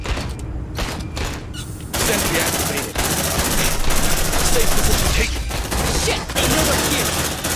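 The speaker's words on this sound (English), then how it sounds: "Deploying sentry gun." In the video game Aliens Dark Descent, a deployed sentry gun fires loud, sustained automatic bursts with mechanical rattling, over a background of game sound effects.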